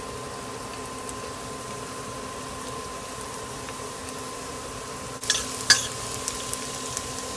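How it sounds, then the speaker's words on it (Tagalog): Garlic sautéing in hot oil in a pan, a faint steady sizzle that turns into a couple of sharper crackles and spatters toward the end. "pwede na nating isgisa ang bawang"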